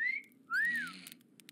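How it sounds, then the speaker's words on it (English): A video game character whistles, two clear rising and falling tones over a low snoring drone, faint and close. "Are you really snoring and whistle?"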